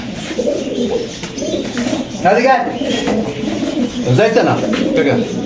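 Lahori pigeons coo repeatedly at a pigeon farm, soft throaty calls rising over close, continuous conversation between people.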